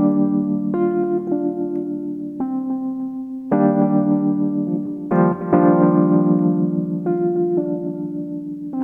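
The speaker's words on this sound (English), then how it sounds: "So this is the sound of a Wurlitzer piano" A Wurlitzer electric piano plays sustained chords with melodic notes over them. The tone is warm and mellow, with a few stronger chord attacks partway through. It is close and alone, with no talking.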